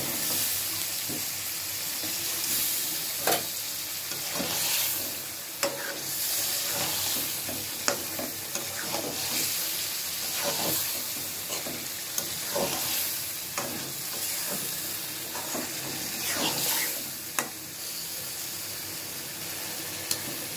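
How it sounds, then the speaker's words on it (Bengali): Fish frying in oil with spices, stirred with a spatula: a steady, close sizzle runs throughout with repeated scraping clinks of the utensil against the pan, and no talking. "আমি এখনও পানি দিই নাই, তেলেই কষিয়ে নিচ্ছি।"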